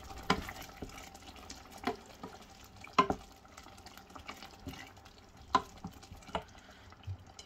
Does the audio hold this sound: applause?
no